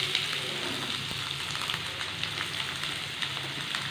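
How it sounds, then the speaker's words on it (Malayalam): Onions dropped into hot oil give a soft, even crackle and sizzle with faint scattered pops, fairly quiet and steady, no speech. "ഈ എണ്ണ അത്യാവശ്യം ചെറുതായിട്ട് ചൂടായി വന്നിട്ടുണ്ട്. ഇതിലേക്ക് നമുക്ക് നമ്മളുടെ എടുത്ത് വെച്ചിരിക്കുന്ന ഉള്ളി ചേർത്ത് കൊടുക്കാം."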